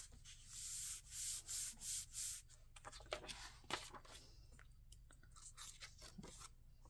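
Stamped cardstock being rubbed with ink, a few steady soft scrubbing strokes at first, then lighter scattered scratches and taps, faint and close.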